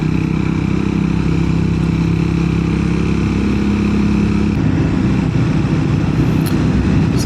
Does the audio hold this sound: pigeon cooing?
no